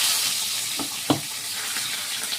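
Fish sizzles steadily in a little oil in an old-style kadai. A constant hiss of frying runs throughout, with a few soft clinks or taps of utensils breaking through.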